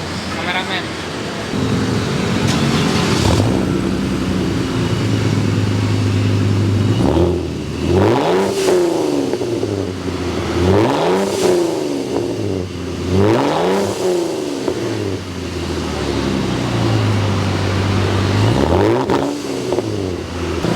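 A supercharged Jeep Rubicon engine idles loudly up close, then revs in several rising and falling surges, roughly every three seconds.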